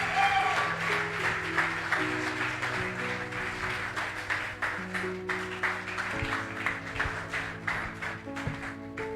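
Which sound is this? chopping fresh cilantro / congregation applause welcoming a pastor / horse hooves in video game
congregation applause welcoming a pastor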